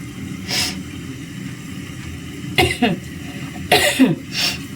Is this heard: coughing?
yes